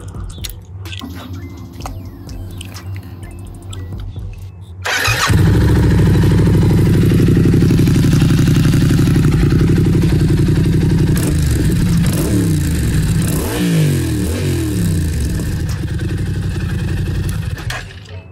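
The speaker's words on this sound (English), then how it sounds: "You need to put an exhaust on an XSR700." Yamaha XSR700 motorcycle with an aftermarket exhaust: faint clatter and key jangle, then the engine starts abruptly and idles loudly, with several sharp revs blipping up and down close by.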